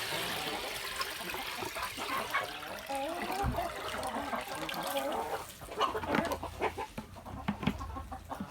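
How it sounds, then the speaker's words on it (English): Chickens on a homestead, with soft clucks and murmurs scattered over a busy background of scratching and trickling water, close but fairly quiet and rising a little toward the end, no talking. "Okay, happy chickens."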